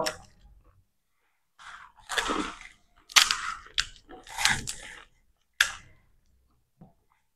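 Fuchka (pani puri) are bitten and chewed during an eating challenge, giving several loud, close crunching bursts separated by short pauses, with no talking.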